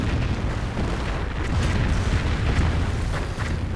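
Calliope rocket artillery barrage exploding in a video game, a dense continuous rumble of overlapping booms and blasts, loud and sustained with no talk.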